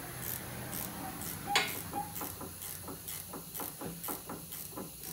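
Aerosol lubricant sprayed onto a stuck bolt on an independent rear suspension during a coil spring swap, a sharp hiss burst near the start followed by a run of short rhythmic metallic ticks as the bolt is worked back and forth.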